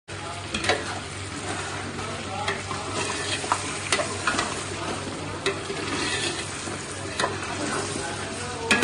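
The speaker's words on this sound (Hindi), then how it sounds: "ये देखें इस तरह से मैं अब इसको फ्राई कर रही हूँ" Beef pieces fry in a pot for beef pulao, a continuous close sizzle with repeated stirring scrapes and knocks of a spoon against the metal throughout.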